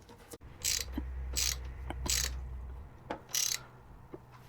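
Ratchet tightening the bolts of a GIVI PR3127 radiator guard on a Suzuki DL800 V-Strom, a few bursts of quick clicking strokes close up with small metallic knocks between them, no talk.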